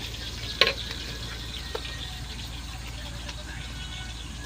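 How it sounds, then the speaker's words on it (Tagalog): Onion and garlic sautéing in a cooking pot, a steady low sizzle with faint stirring and a couple of sharp utensil clicks against the pot. "Gigisahin ko yung sibuyas sa bawang."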